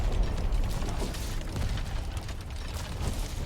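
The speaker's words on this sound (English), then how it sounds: "we're just going to keep launching these until the tower sinks" A siege weapon in Valheim's Ashlands launches payloads at a Flametal pillar, giving repeated mechanical clunks and thuds with low booming bursts. The sound is dense and continuous, with no voice over it.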